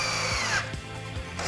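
A power drill drives 2.5-inch wood screws up through the bottom into 2x6 boards for a farmhouse dining table, a close, steady whine that revs and dips briefly as each screw seats.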